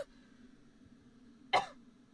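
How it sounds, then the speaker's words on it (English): A single hard cough bursts out sharply and close partway through, after a near-silent stretch with a faint murmur at the start. "I coughed so hard my camera lost focus."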